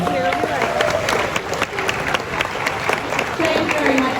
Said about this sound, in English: Let's give our tour guide a really big round of applause.